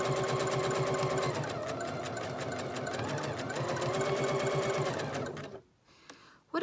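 Sewing machine back stitching while making a hedgehog pincushion, a steady fast mechanical whir with a slight change in pace midway, stopping near the end into quiet.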